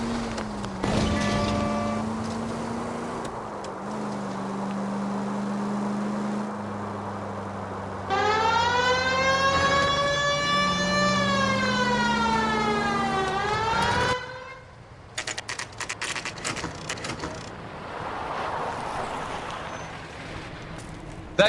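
A wailing siren in the video game Fallout sweeps its pitch up and down through the middle of the clip, loud and layered over other steady game tones and background noise.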